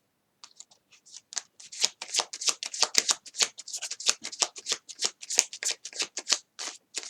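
A deck of tarot cards is shuffled for a reading with a long run of rapid, crisp riffling flutters, close and steady, building in loudness after a soft start.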